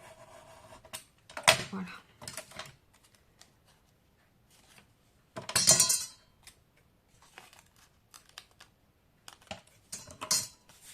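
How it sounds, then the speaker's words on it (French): A craft cutter knife slices paper for a scrapbooking elastic folder in a few short, crisp scraping strokes separated by quiet pauses, with a brief spoken word. "je prends mon cutter à ras du creux là et je coupe la partie"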